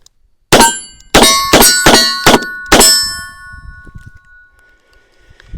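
A Colt Python revolver fires rapidly at steel targets: six loud shots in quick succession, each followed by a bright ringing clang of steel that lingers and fades into quiet.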